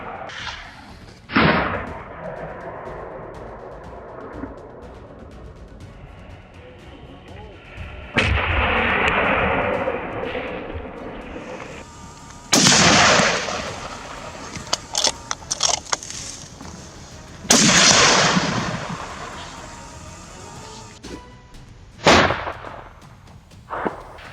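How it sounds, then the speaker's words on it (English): A hunter's scoped rifle fires in the open morning air, sharp loud cracks standing out above a quieter background, with several strong blasts and some fainter bursts spread across the stretch. "The first shot rang out, breaking the morning silence."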